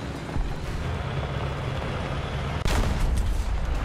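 Tank gunfire during a T-90M battle in War Thunder: one sharp, loud cannon shot cracks out over a steady rumbling engine drone, followed by a brief ringing tail.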